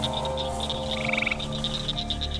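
Frogs croak and trill in a dense nighttime chorus, a rapid pulsing trill riding over repeated chirps in steady rhythm, loud and continuous with no talk.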